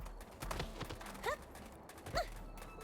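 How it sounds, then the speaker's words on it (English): In Xenoblade Chronicles X, a horse's hooves clip-clop in a few scattered steps, faint and a little distant, with a brief whinny-like call mixed in. "It's a horsey"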